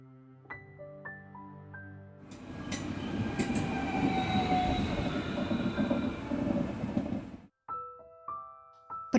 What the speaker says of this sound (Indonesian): Kereta pagi penuh sesak seperti biasa.